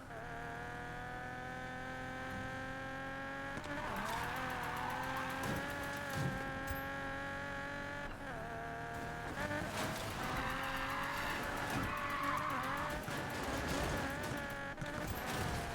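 A video game car drifts with loud, continuous engine whine and repeated tire squeals and skids that rise and fall over about fifteen seconds, with no talk.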